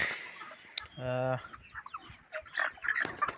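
Broiler chickens on a cage farm in Assam cluck and squawk close by, with one loud drawn-out call and scattered softer clucks and rustling around it.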